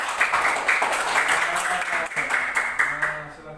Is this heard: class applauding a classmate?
yes